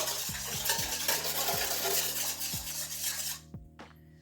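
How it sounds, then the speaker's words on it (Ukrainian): A spoon stirs yeast and sugar into water briskly in a container, giving repeated light scraping clinks against a steady background hum before the sound stops near the end. "Це беремо, перемішуємо, щоб цукор розчинився."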